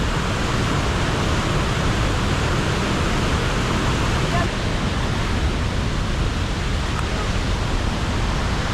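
Vickery Falls pours in a steady, dense roar of falling water, heard close up along a hiking trail and holding an even, unbroken rush throughout.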